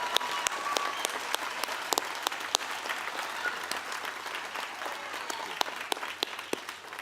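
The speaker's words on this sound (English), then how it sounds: "let's give them a big round of applause and thank you" An audience at a 4-H band event in Indiana claps in a steady wash of applause, with sharp individual claps standing out over several seconds.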